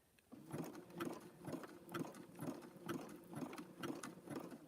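A sewing machine stitches a fabric-wrapped rope bowl in short rhythmic bursts, about eight runs of clattering needle strokes, close and fairly quiet, with no talking.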